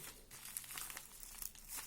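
A parcel from AliExpress wrapped in bubble wrap being handled and opened, with close, quiet crinkling and rustling of plastic and an occasional tearing crackle.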